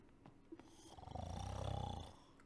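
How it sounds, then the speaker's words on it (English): A sleeping character snores in Dragon Quest VII Reimagined, one slow drawn-out rasping snore that swells and fades after a few faint soft breaths, alone and fairly quiet. "Oh, some snoring action"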